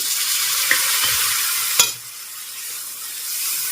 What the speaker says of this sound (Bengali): সর্ষে বাটা দেওয়ার পর অল্প একটু নেড়ে চেড়ে নিতে হবে